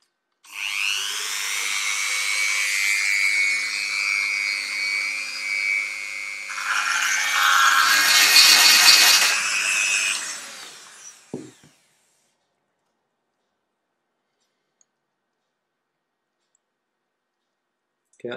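A Dremel rotary tool cuts with a loud, high buzzing whine for about ten seconds, its pitch shifting as it bites, then winds down and stops, followed by a couple of faint knocks and near silence.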